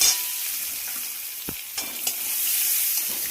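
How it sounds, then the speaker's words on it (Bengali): Chopped onions being stirred and fried in a pan, a soft continuous sizzle with a couple of brief knocks from a stirring spoon. "পেঁয়াজটা নেড়ে চেড়ে ভেজে নিলাম।"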